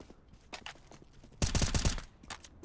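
Gunfire in CS:GO, with a few scattered single shots followed by a loud rapid burst of automatic fire lasting about half a second, then faint footsteps and a couple more distant shots.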